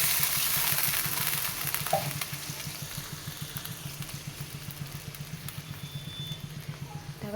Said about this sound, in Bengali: এরপর দেবো এখানে জল।